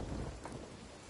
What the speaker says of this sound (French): Bah, c'est l'orage.